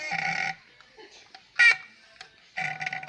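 Squeaky, blurting fart noises from a novelty toy come in three bursts, a longer one at the start, a sharp short squeal in the middle and another at the end, with gaps of quiet between them.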